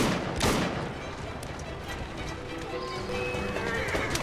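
A horse-drawn carriage in the video game Assassin's Creed Syndicate rattles along with clopping hooves and a neigh, loud and close, mixed with gunfire and other game sounds.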